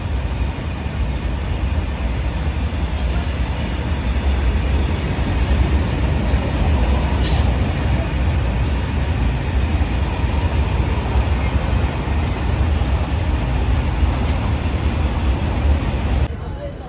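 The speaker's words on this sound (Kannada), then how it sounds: "ಆ ಕಡೆ ಒಂದು ಟ್ರೈನ್ ಬರ್ತಾ ಇದೆ ಕ್ರಾಸಿಂಗ್ ಇದೆ ಇಲ್ಲಿ ನೋಡಿ" A crossing train passes alongside a stopped MEMU passenger train on the Ballari to Hospet line, its broad continuous rumble and rolling noise steady and close for the whole stretch before ending abruptly.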